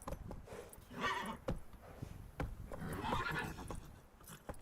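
Roach the horse in The Witcher 3 lets out two loud, breathy whinnies close by, with snorts and hoof clops sounding in between.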